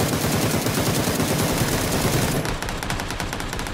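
Dense, continuous automatic gunfire in PUBG, loud and close, rattling nonstop for several seconds and thinning slightly toward the end.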